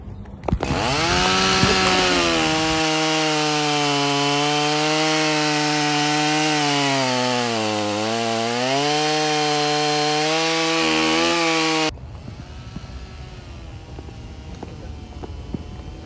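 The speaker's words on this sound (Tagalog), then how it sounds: "pwede kayong makulong sa pagputol ng puno gamit ang chainsaw nang walang permit" Chainsaw cutting trees: a loud, continuous engine whine that dips and rises in pitch as the saw works, running for about eleven seconds before cutting off abruptly into quieter outdoor background.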